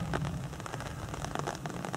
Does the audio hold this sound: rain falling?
yes